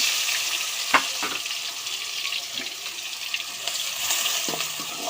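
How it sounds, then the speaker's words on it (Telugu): Thinly chopped onions fry in hot oil in a kadai pan, giving a steady, close sizzling hiss throughout, with a few sharp scraping clicks from a spoon and no speech. "ఇవి కొంచెంసేపు వేగనివ్వాలా"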